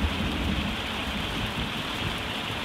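Rain falling steadily outdoors at a Lake District caravan campsite, a dense continuous patter with a low rumble of thunder underneath, no voices.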